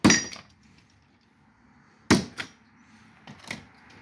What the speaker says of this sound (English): I will take a hammer and hope that it doesn't fly away and smack it a couple times